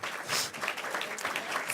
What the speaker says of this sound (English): Give our panel a warm round of applause.